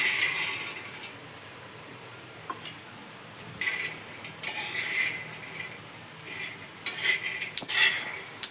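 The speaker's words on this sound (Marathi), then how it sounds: "हे बघ तडतड आवाज येऊ राहिलाय बघा आपले शेंगदाणे चांगले भाजले" Peanuts dry roasting on a hot griddle for peanut chikki, giving scattered crackling and clinking bursts that come and go across the clip at moderate level, with no voices.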